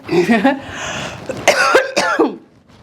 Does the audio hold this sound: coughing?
yes